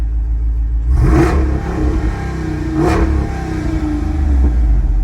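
A loud 392 V8 in a Jeep Wrangler blips its throttle twice with exhaust valves open, each rev rising into a raspy bark before dropping back to a heavy idle, close up and without voices.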